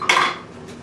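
A heated clay pot is lifted out of the oven during loaf baking, making one short, bright ceramic clank and a faint scrape that fade fast into quiet.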